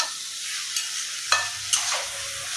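Masala for a katla fish head curry sizzles and fries on a low flame as a spatula stirs it in a pan, with a continuous close hiss and a few sharp scraping strokes.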